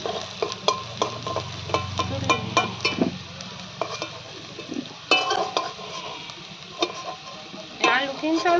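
Unboiled raw potatoes sizzle in hot oil while a utensil stirs and scrapes the pan in rapid repeated strokes, clattering bursts over a continuous crackle, close and clear without voices.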